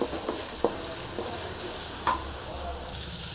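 Cabbage frying with spices in a pan, a close continuous sizzle broken by a few clinks and scrapes of stirring, no voices.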